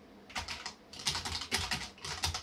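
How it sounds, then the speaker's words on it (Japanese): Computer keyboard typing in quick bursts of clicky keystrokes, close and fairly soft, with brief pauses between runs and no voices. "キーボードのカチャカチャ音もある程度聞こえてきます。"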